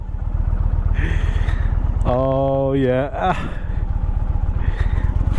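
An Indian Challenger Elite motorcycle engine rumbles steadily at low speed during U-turns, a deep pulsing throb close to the microphone, with the rider briefly speaking over it.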